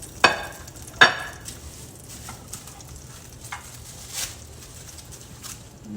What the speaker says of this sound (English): Let's get some more pork chops cooking.